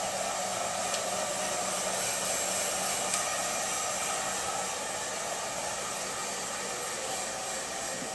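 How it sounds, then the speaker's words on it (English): A handheld blow dryer fitted with a narrow nozzle runs steadily throughout as hair is dried with a comb in a barber class, a continuous loud airy whoosh with no talking. "we're going to start blow drying our guest's hair with our narrow dry and using our comb"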